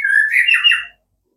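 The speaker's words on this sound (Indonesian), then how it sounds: "Dan ini murai batu saya yang kemarin digantang ya." A white-rumped shama (murai batu) kept for bird-song contests gives one loud, clear, close whistled phrase lasting under a second, followed by silence.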